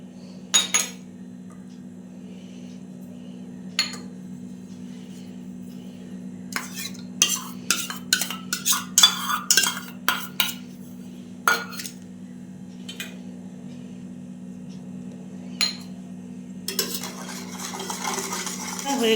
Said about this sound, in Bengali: এইবারে আমি এই বাটিতে সবগুলো একসঙ্গে মিক্সড করে নেব।